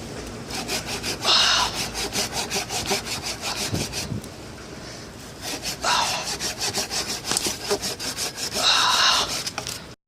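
A hand saw cuts through wood from a felled apartment-complex tree in steady back-and-forth strokes, close and loud, with rhythmic rasping bursts that pause briefly between runs of strokes.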